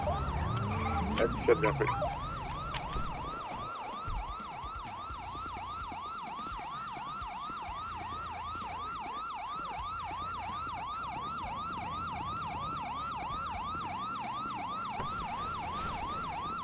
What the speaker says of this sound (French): Arrêtez-moi cette sirène de l'enfer!